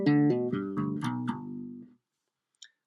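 Four-string bass guitar plays a sweep-picked arpeggio, about six clear, close plucked notes stepping through a chord in a quick even rhythm, the last note ringing out before a faint click, with no talking.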